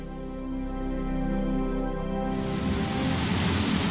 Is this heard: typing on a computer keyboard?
no